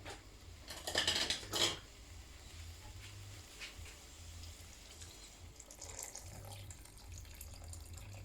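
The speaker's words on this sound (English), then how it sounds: "So I'm going to put some water in there now" Water poured from a tap into a pot of lamb curry paste, a brief burst of splashing rushing water followed by quieter kitchen clatter, fairly close.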